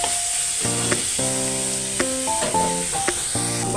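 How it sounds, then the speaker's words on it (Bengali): Dried shrimp sautéed and stirred in a pan with green chilli and salt for a taro-stolon dish, giving a close, steady sizzle broken by the scrape of a stirring spoon, with a tonal hum running beneath it. "এবার একটু কষাতে কষাতে আমি শুটকিটা দিয়ে দেবো"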